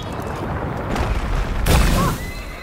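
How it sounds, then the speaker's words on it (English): A cannon firing Greek fire in A Plague Tale: Requiem, heard as a loud booming blast with a roaring burst of flame over steady rumbling game noise. "Wait, we have this cannon."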